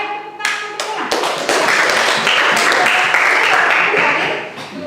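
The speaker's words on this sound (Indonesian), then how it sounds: "Ya, baik, tepuk tangan untuk Mulan." Classroom applause for a student, many hands clapping close by, starting with a few scattered claps before swelling into steady, loud applause that fades slightly at the end.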